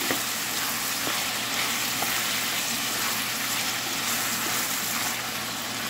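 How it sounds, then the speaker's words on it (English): Tomatoes fry in a pan with a steady, dense sizzle that holds at an even loudness throughout, close by and with no talking. "And add the tomato. Cook this for 5 minutes."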